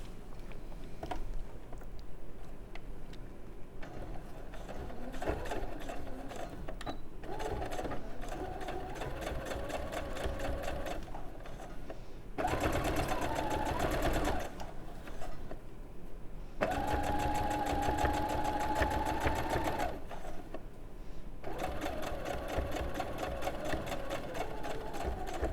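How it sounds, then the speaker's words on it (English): A domestic sewing machine top stitches a fabric flap flat while dressmaking, running in steady bursts of whirring stitches with brief pauses between runs, close and clear with no talk. "And then I'm just going to top stitch to make sure that flap stays down."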